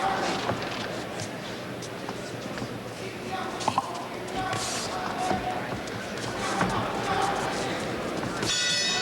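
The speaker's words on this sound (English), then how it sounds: "There's the bell ending round 1" A boxing bell rings to end a round at the 1980 National Collegiate Boxing Championships, a few sharp clangs midway through, heard under continuous ringside commentary and crowd noise.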